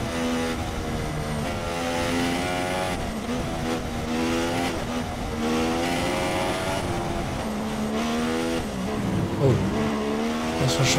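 A Formula 1 car in F1 2016, driven at the Chinese Grand Prix practice, holds a high, steady engine whine that rises and falls through gear changes, with a brief tire squeal near the end under too much throttle.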